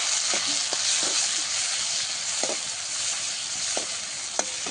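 Tomatoes added to sautéed onion and garlic, frying in a pan with a constant loud sizzle and a few light clicks of a stirring spoon.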